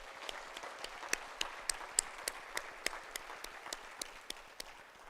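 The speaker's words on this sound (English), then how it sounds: "So let's give Mary a round of applause." A seated audience at a presidential installation ceremony in Princeton breaks into steady applause, a dense patter of many hands with a few louder nearby claps standing out, moderately distant and continuous.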